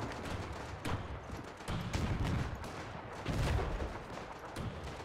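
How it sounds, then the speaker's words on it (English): Gunfire in a WW1 battle game, a machine gun fired from the hip amid scattered shots and rumbling battlefield noise, several louder bursts rising out of a dense, continuous din. "Fires a machine gun from the hip."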